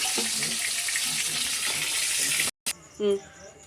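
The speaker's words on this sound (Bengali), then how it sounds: "তেল গরম হয়ে গেছে, জিরে দিয়ে দিচ্ছি" Cumin seeds dropped into hot oil in a kitchen, sizzling and crackling steadily for a few seconds before a brief cut, followed by fainter stirring and clinking with a short voiced sound.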